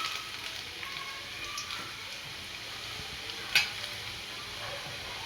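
Chopped onions frying in a pan while being browned for a green peas curry, giving a soft, steady sizzle with a brief clink of a utensil partway through and no speech.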